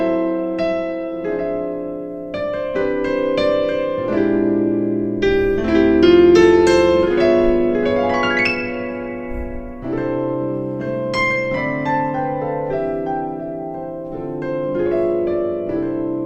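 A second jazzy Christmas intro on solo piano, full chords with a flowing right-hand melody and a brief rising run midway, played near and steady without any speech.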